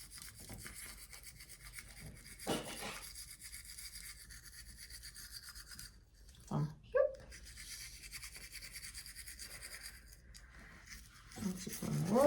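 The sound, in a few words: brushing a child's teeth with toothbrush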